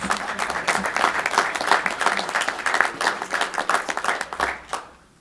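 An audience at a press conference claps loudly and steadily for about five seconds, dense overlapping hand claps that taper off at the end.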